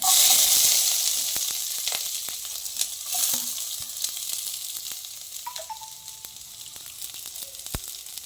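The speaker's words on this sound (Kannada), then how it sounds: "ಸ್ವಲ್ಪ ಫ್ರೈ ಆಗಬೇಕೀಗ" Onion and green chili with cloves frying in a pan for mutton gravy, a loud hissing sizzle at first that gradually settles into a softer crackle, with occasional utensil clinks and scrapes.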